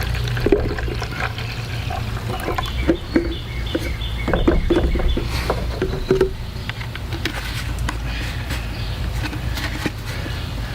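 Water runs from a garden hose as a lawn care solution is mixed and attached, a steady close gushing and splashing with a low rumble and scattered knocks of handling.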